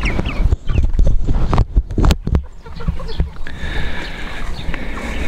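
Chickens cluck and scratch in a backyard run on grass, giving close, uneven bursts of clucking with short pecking taps. They come and go over a quiet outdoor background.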